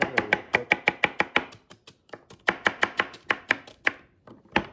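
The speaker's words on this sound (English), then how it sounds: "you can go ahead and chop up the" A knife chops celery on a board in quick, crisp, evenly spaced strokes, two bursts of rapid chopping separated by a short pause, close and clear.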